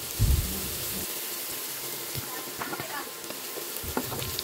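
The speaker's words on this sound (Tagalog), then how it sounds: "i-fry na yung pork sa sarili niyang mantika until mag-light brown" Pork frying in its own rendered fat with minced garlic and ginger for ginataang laing, a steady close sizzle with faint stirring clatter throughout.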